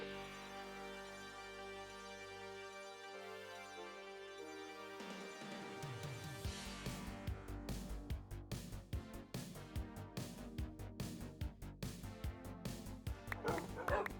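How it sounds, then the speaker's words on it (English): Many tamed dogs in Minecraft yip and bark in a rapid, rhythmic stream after a swelling musical lead-in, the barking dense and close for the second half. "We now have 50 total dogs in the army."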